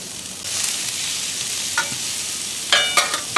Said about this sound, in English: We're going to put our onions and peppers on here.